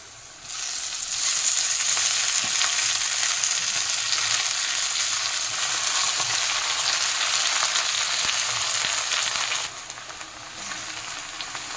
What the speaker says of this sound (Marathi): हे बघा लसूण आणि मिरच्या चांगल्या तेलात परतल्या आहे आता आपल्याला त्याच्यामध्ये मेथीची भाजी टाकायची आहे